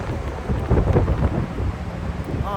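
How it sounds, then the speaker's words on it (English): Strong wind buffets the microphone in a steady, low roaring rumble that swells and eases but never stops. "Oh, I hear that wind."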